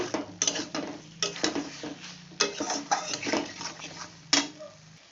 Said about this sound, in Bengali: আমি মশলাটাকে দিয়ে ভালো করে কষিয়ে নেব